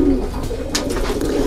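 A pigeon coos close by in a loft of racing or breeding pigeons, a low throaty rolling coo with a soft flutter or scrape partway through, no talking over it.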